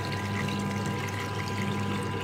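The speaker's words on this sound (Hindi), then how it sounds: "ये तकरीबन 2 किलो ठंडा पानी है ये इसमें चला जाएगा" Roughly 2 kg of cold water pours steadily into a pot of freshly made paneer, a continuous close rushing splash with no talk over it.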